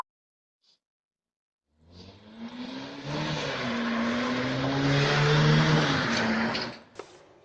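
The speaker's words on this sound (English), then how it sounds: "These guys are driving on the sidewalk." A vehicle driving along a city sidewalk in Chicago, caught by a doorbell camera, rises from silence into a loud engine hum with a shifting pitch as it passes close by, then cuts off abruptly. No one speaks.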